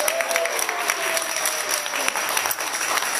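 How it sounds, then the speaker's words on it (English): A graduation crowd applauds, dense steady clapping from many hands filling the room continuously, loud and close, with faint voices mixed in. "And the crowd goes wild."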